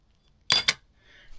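Old 1950s glass bottles clinking as they are handled at an abandoned dumpsite, two quick bright clinks close together, then quiet.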